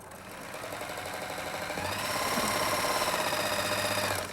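A Viking Huskylock 1002LCD serger stitches across a strip of fabric, giving a steady, fast mechanical whir and rapid needle chatter that runs continuously and grows slightly louder partway through, with no talking.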